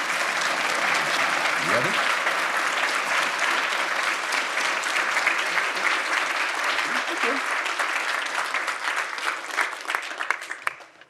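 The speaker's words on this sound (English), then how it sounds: "Ladies and gentlemen, give a round of applause" Sustained audience applause at a Pro Bono Society induction ceremony, a steady dense wash of clapping that holds evenly and thins slightly near the end, with a brief spoken voice early on.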